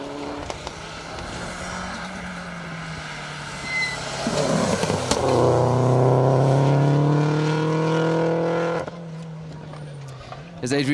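Subaru Impreza rally car on an asphalt rally stage, engine rising in pitch as it approaches and revs hard through the gears, loud and close for several seconds before fading off, with a commentator talking throughout.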